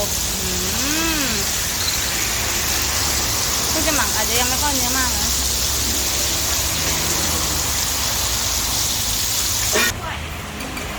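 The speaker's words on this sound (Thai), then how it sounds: "บรรยากาศแบบฝนตกแล้วทุกคน ฝนตกโปรยปลายเหมือน" Steady rain falling as a dense, loud hiss outside a Thai papaya salad shop in Bang Saen, continuous throughout with people talking over it and a brief clatter near the end.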